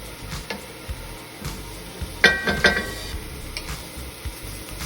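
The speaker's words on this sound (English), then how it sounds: "Add the rest of the carrots to this pan." Carrots dropped into a hot pan for stuffed bell peppers, with a soft steady sizzle, scraping stirs and a couple of brief metallic clinks of utensil against pan.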